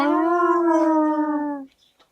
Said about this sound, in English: happy barks.